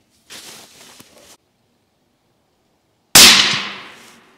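A single loud, sharp rifle shot from a Proof Research TAC 3 during barrel break-in, sounding close after a short stretch of faint rustling, then ringing and decaying over about a second.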